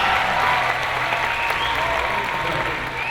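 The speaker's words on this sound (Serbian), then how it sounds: "molim za jedan jak aplauz podrške" A lecture audience at a motivational talk breaks into sustained, loud applause, dense clapping that fills the hall evenly for several seconds before easing slightly at the end.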